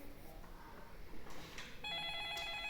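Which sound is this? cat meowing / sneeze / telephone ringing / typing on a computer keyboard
telephone ringing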